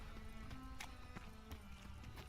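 Horse hooves clip-clopping in the Witcher 3 video game, a few irregular hoof knocks over steady town ambience and background noise, moderately faint.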